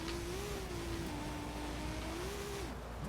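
A Datsun rally car accelerates hard in fourth gear in Forza Horizon 5, the engine note climbing and dipping in a loud, continuous drone with no talk over it.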